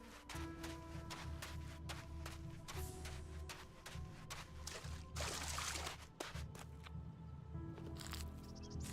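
Water in the video game ELEX trickles and pours quietly at a low level, a soft continuous flow behind faint clicking and ambient game sounds.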